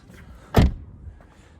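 Door of a Volkswagen Golf 7 hatchback shutting with a single solid thud, close and brief, followed by quiet.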